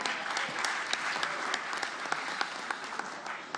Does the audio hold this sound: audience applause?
yes